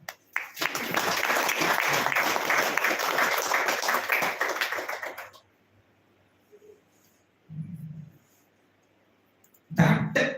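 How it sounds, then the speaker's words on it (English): Audience applause indoors at a spiritual talk, a loud burst of clapping lasting about five seconds, then quiet with a brief soft rustle and a short clap or cough afterward. "This requires claps."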